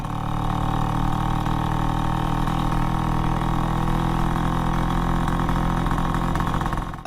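A scooter engine runs steadily and close, a continuous buzzing drone with no change in pace and no talking.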